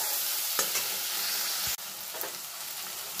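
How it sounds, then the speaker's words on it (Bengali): Ginger, onion and garlic paste is sautéed over a low gas flame for a capsicum katla curry, a soft continuous sizzle with spatula scrapes and one brief clunk, heard close with no voices. "আদা পেঁয়াজ রসুন পেস্ট খুব ভালো করে মশলাটা আমি কষে নেব"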